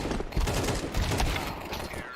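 Dense, rapid gunfire crackles in a professional Counter-Strike 2 match, a continuous loud volley of overlapping shots lasting the whole moment.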